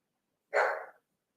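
A single short dog bark sounds out once, moderately loud and close, as a UPS delivery truck passes by, with silence before and after.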